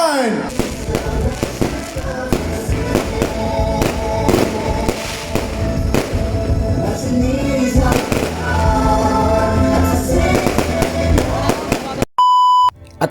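Fireworks crackle and pop in a dense, continuous barrage of sharp bursts after a countdown, loud and close, with voices mixed in, before a brief electronic beep near the end.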